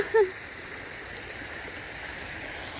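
A small stream flowing during a cold-weather walk outdoors, a faint, steady rush and gurgle of water running throughout, with a brief short knock near the start.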